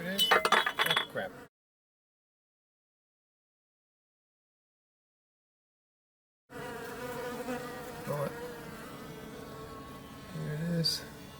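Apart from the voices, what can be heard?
bee buzzing while flying carrying a dead bee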